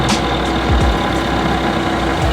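A sailboat's engine idles at low throttle, giving a steady, continuous low rumble with a faint hum above it, close and even in level throughout with no voices.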